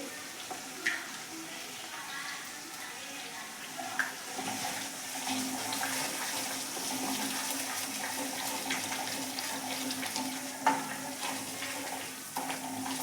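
Garlic chili chutney cooks in a pan with sautéed onion and tomato, a soft continuous sizzle and bubbling with occasional stirring clinks, fairly quiet throughout.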